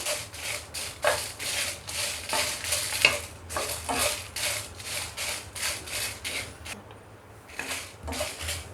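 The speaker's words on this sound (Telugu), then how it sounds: "సిమ్లో పెట్టి ఫ్రై చేసుకోండి." Dried red chilies frying in oil over low heat, a continuous close sizzle with rapid rhythmic scraping of a spatula stirring the pan, steady and moderately loud throughout.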